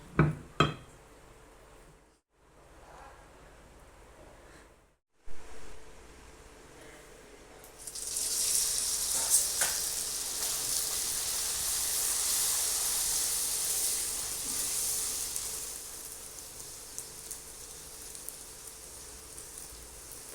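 Poori puffs up in hot oil, first with a few faint clinks and then a steady, bright sizzling hiss that builds and holds for over ten seconds.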